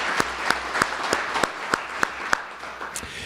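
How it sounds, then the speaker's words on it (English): An audience at a leadership ethics event applauds the sponsors, steady indoor clapping with a handful of sharper individual claps standing out at a regular pace. "So rounds of applause for them for helping us do these events."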